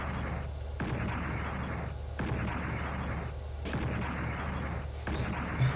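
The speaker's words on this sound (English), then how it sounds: "There's lots of explosions." Explosions and gunfire from the video game Cyberdogs, with repeated bursts of dense rumbling blasts and rapid shots, several loud booms at irregular intervals over a constant low background.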